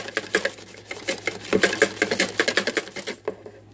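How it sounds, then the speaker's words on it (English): Egg yolks whisked in a bowl for low-carb keto ice cream, a rapid run of sharp clicking strokes against the bowl, close and fairly loud, with no talk over it. "I'm going to keep whisking"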